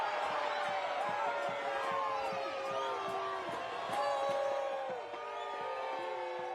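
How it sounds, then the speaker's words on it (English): Crowd noise swells through a soccer match stadium during a cup tie between Monterey Bay FC and LAFC, with sustained jeering and boos under a commentator's voice and occasional sharp bursts. "despite the boos from the crowd"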